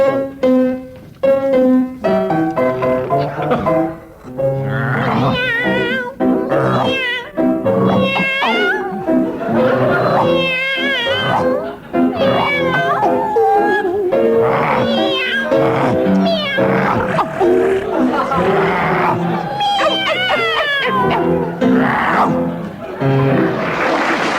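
Comedy panel performers sing a song as a cat, the tune carried entirely in loud, continuous meowing and caterwauling voices, a human imitation of a cat with no ordinary speech, sustained throughout.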